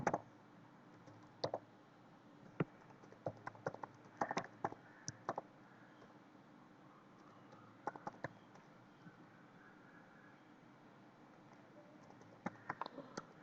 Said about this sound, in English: let me type my credentials quickly